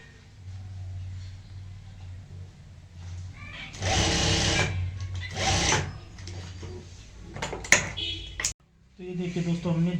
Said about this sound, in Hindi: हमने दोनों साइड की यहाँ पे सिलाई लगा ली है